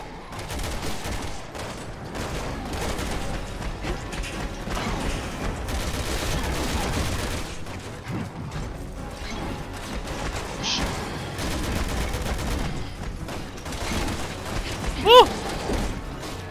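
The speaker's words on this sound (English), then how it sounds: "He's throwing grenades, man." Grenade blasts and gunfire in the video game Resident Evil 6, a dense stretch of bursts and thumps with one sharp boom near the end, under people talking.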